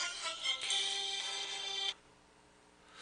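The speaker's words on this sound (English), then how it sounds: "Oh, look. We got a phone call?" A phone ringtone for an incoming call sounds loudly and steadily for about two seconds, then cuts off abruptly, leaving quiet room tone.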